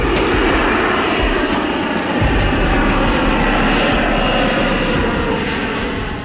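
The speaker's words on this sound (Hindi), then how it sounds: "इंडियन एयरलाइंस का विमान IC-814 काठमांडू के त्रिभुवन अंतर्राष्ट्रीय हवाई अड्डा से दिल्ली के लिए उड़ान भरता है" Indian Airlines flight IC-814 takes off from Tribhuvan International Airport in Kathmandu, bound for Delhi. A loud, steady engine roar fills the whole stretch, close and unbroken, with a deep low rumble underneath.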